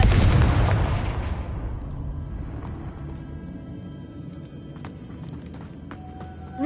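Confringo blasting spell in Hogwarts Legacy, a loud, booming blast at the start that decays into a long rumbling tail, with faint clicks and small effects afterward.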